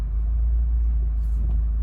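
A cold 2022 Subaru WRX engine runs with a steady low rumble, close and continuous, with no other sounds.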